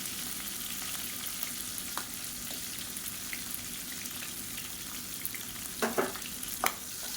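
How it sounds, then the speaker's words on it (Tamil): Shallots and green chillies sauté in hot oil, giving a soft, steady background sizzle with a couple of brief stirring scrapes near the end. "சேர்த்துட்டு நல்லா வதக்கி விட்டுக்கலாம்"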